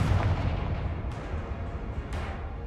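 Confringo fire spell in the game Hogwarts Legacy, a deep rumbling blast heard alone and close, followed by two sharper bursts at steady intervals.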